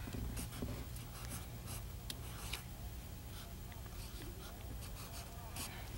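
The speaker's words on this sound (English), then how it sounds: "Okay, so write that in there." Pen scratching an answer onto paper, soft close scribbling strokes in short bursts over a low steady hum, with quiet talk in the background.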